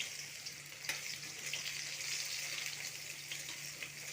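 Black cumin seeds, green chilies and chopped onion frying in hot mustard oil in a kadai give off a soft, steady sizzle and crackle, with a few sharper pops and the faint scrape of stirring.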